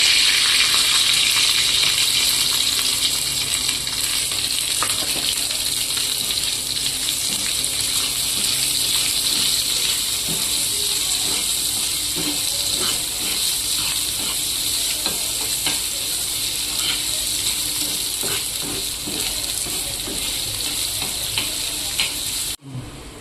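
Onion frying in a hot pan with curry leaves, chili powder, turmeric, coriander powder and mustard-cumin seeds for tomato chutney, a loud continuous sizzle with scraping stirs and clinks of a utensil throughout.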